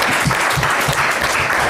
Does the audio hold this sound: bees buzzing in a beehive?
no